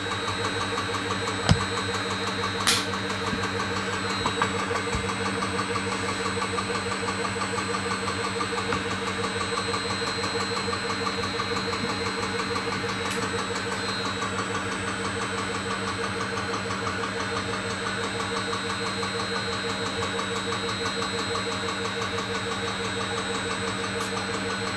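A Tormach lathe spindle runs through a warm-up cycle, giving a steady, continuous machine hum with faint whine and a few sharp clicks near the start, with no talk.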